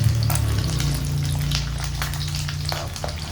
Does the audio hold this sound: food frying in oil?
yes